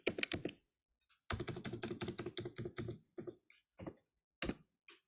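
Quick typing on a computer keyboard, with rapid clusters of sharp clicks, pauses, and a few single taps afterward, close and fairly loud in a quiet room.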